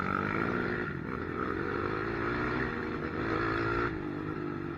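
A dirt bike engine buzzes hard on the throttle during a fast off-road enduro race, a loud, steady high-revving drone with slight rises and dips in pitch and no voices over it.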